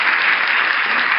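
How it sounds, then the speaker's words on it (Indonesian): A podcast audience claps together, a short burst of even, continuous applause that is loud and uniform with no voices over it. "tepuk tangan semuanya"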